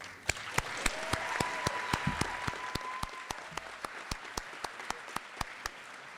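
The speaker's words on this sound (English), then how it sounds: "if we could give all three of these fine students a great round of applause" Applause from a high school senior awards audience for three scholarship recipients, sparse individual claps ringing out at a steady rhythm over a softer crowd patter, moderately loud and close, with a faint voice and a brief tone underneath.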